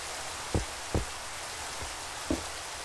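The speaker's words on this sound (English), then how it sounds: "I wish it would stop raining. I don't like the rain." Steady rain patters in a building video game, a constant hiss broken by a few soft thuds.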